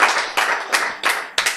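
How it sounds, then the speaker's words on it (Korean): Several bursts of audience hand clapping during a health lecture, moderately loud and evenly spaced, about five sharp claps in quick succession. "박수."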